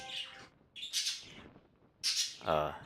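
Birds in the video game NieR give a few short, bright chirps and squawks in separate bursts, close and clear with quiet gaps between them.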